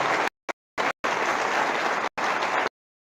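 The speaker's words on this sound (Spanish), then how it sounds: "Le damos un fuerte aplauso a estas dos hermanas que nos acompañan." Church congregation giving a strong round of applause to two visiting sisters, steady dense clapping at moderate level, broken by abrupt gaps of total silence before cutting off.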